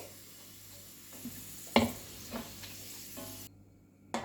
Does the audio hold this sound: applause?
no